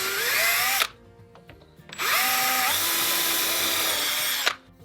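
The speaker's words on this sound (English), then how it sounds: "I'm just going to drill a hole" A power drill whines loudly in two bursts, the motor pitch rising as each starts, with a short quiet gap between them.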